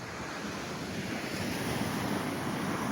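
Ocean waves wash steadily onto a beach in Karnataka, a continuous broadband surf roar with wind buffeting the microphone, no voices.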